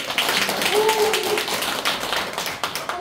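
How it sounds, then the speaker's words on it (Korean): An audience claps for a manager at a presentation on new burial practices: dense, steady applause throughout, with a voice talking over it. "희망하시는 부장님에게 수고하셨다는 박수"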